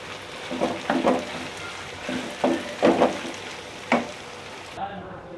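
Chicken and tomatoes frying together in a pot for biryani, with several short bursts of stirring and scraping over a steady low sizzle, heard close up with no voices.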